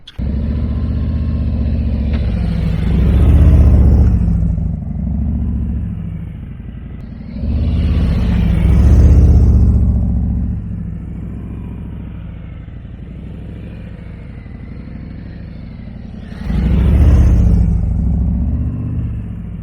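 A Road Glide motorcycle doing tight, slow maneuvers: a loud, deep engine rumble close by, swelling in three distinct throttle revs between steadier idling stretches.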